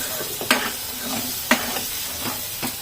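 Masala that is starting to stick is fried in a pan, a spatula scraping it in occasional sharp strokes over a constant loud sizzling hiss, close by.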